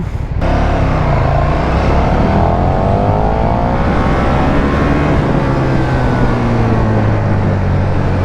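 A KTM 1290 Super Duke R motorcycle pulls hard in first gear, its loud, close engine note climbing steadily and continuously for several seconds without talk.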